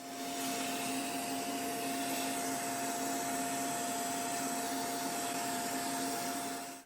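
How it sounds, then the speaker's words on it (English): A vacuum cleaner fitted with a crevice attachment runs steadily while clearing dust from the air vents of a PS5 Slim console, a constant whine with a tonal hum and no talk. "Use a vacuum with a crevice or dusting attachment to clear dust from the air vents."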